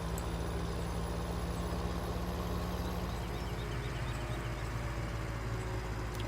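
A truck's engine in Farming Simulator 17 drones steadily with a continuous low rumble, moderately quiet and unchanging throughout, with no voices.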